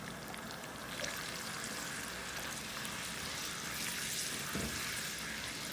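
Crushed tomato and a few chillies fry in a pan, giving a soft, steady sizzle and hiss that stays faint and continuous throughout.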